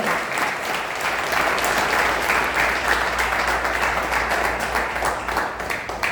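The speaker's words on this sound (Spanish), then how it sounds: "¿Cuántos le dan un aplauso al Señor?" A church congregation applauds for the Lord during a sermon, dense sustained clapping from many hands filling the room at an even level, with no speech over it.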